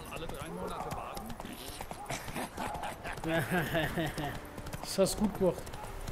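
Horse hooves clip-clopping while riding in The Witcher 3: Wild Hunt, a steady trotting rhythm in the background beneath someone speaking German over the game.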